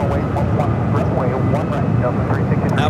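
A United Boeing 777-200ER at San Francisco airport sends out a loud, steady jet-engine roar with a tonal whine, while voices talk over it for the whole short stretch.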